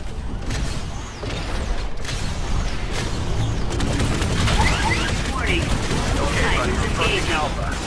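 Titan drop sequence in the Titanfall video game: a dense, continuous roar of mechanical clanking, creaking metal and gunfire-like bursts, growing louder and busier through the second half, with game voice lines mixed in.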